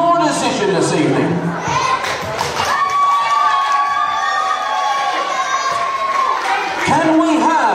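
Audience at a village talent show rising for a standing round of applause, a broad crowd wash of clapping and cheering with children's shouts mixed in, steady and close throughout.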